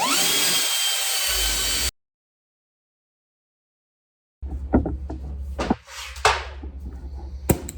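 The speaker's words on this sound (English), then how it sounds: "Here's my carbide grinder, my die grinder. So I'm just going to try to get in here and clean up those casting marks." Carbide die grinder cleaning up casting marks on a big old bench vise, a harsh high-pitched whine in a loud burst, then silence, then choppy intermittent grinding with bumps and pauses.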